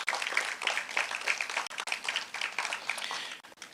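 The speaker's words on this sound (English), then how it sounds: "Let's give Mr. Ramnath a round of applause." Audience at an agricultural youth symposium applauding, a dense but quiet wash of many hands clapping for a few seconds.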